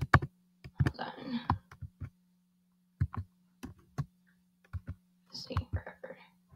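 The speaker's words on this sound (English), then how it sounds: "I'm typing with one hand." One-handed typing on a computer keyboard, with irregular bursts of quiet clicks separated by pauses and a soft voice murmuring in places.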